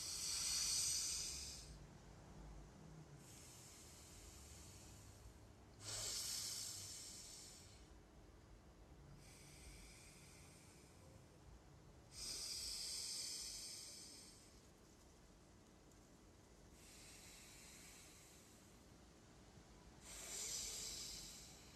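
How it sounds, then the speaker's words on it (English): A person practises alternate nostril breathing, with a finger closing the right nostril and air pushed out through the left. Slow, close, airy breaths come in about five hissing bursts separated by quiet pauses. "Take the index finger, put it on the right nostril. and exhale out of the left nostril."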